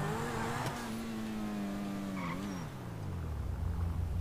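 A car in GTA V drives and skids, its engine tone sliding and wavering as the tires squeal briefly, then settling into a low, slowing rumble.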